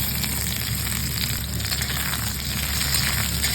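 Potatoes and eggplant, fried earlier, go back into a pan of hot oil with ridge gourd and green chilies for Bengali sukto, giving a steady, close crackling sizzle throughout.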